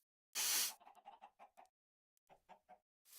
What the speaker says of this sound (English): we made this cute little chicken coop for the chickens